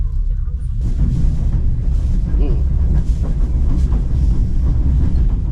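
Train moving along the rails on an overnight rail journey, a steady loud low rumble with faint rhythmic clatter throughout, brief voices mixed in.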